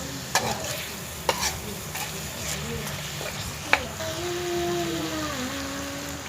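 Curry paste being stir-fried with cumin leaves for a Thai beef curry, a low steady sizzle with a few sharp scrapes and knocks against the pan, and a voice talking faintly over it.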